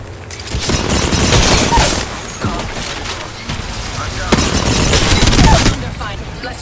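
Automatic gunfire and bursts ring out in a video game firefight, loud and dense, mixed with sharp impacts and overlapping voice chatter throughout.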